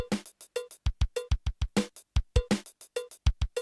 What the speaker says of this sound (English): if you want you can have it play the zeros, which is all the notes in between, on the hi-hat